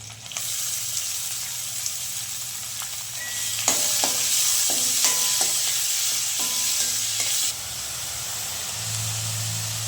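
Onion, green chili and curry leaves frying in hot oil for potato masala, a loud continuous sizzle and hiss with a burst of spattering midway and a few scraping stirs, no talking.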